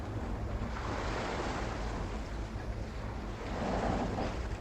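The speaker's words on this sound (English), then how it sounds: "here we are, on the edge of a bleeding storm in the middle of the Herald Sea" Stormy sea waves roll in Symphony of War, a steady loud wash of surf and wind with swelling surges, no voices present.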